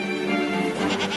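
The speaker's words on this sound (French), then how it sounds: "j'ai sorti tout mon troupeau de chèvres" A herd of goats bleats in a loud, wavering chorus, several overlapping calls packed into a brief moment.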